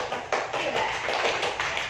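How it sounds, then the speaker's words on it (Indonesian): An audience at a school guidance session applauds, a dense steady patter of many hands clapping together, fairly close and continuous, with no voices over it. "Kita beri tepuk tangan"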